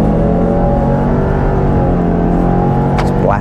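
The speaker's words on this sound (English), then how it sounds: "Engine makes that familiar sort of Subaru sound." A Subaru Outback Wilderness engine revs while climbing a hill off-road, a loud, steady droning hum heard from inside the cabin, with a rising whine near the end.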